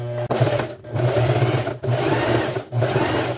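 Sewing machine stitching the seam of a fabric mug rug, a loud close mechanical whir running in three steady bursts separated by short pauses.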